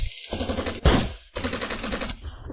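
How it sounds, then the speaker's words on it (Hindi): Gunfire in a dramatic action scene: a sharp loud burst of rapid shots cutting through a dense sound bed, preceded and followed by continuous staged effects. "फायर करो।"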